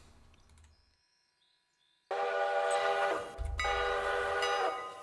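A train departs in the Railroader simulation game: after two quiet seconds a loud tonal roar bursts in, and a deep low rumble joins it midway, holding strong to the end.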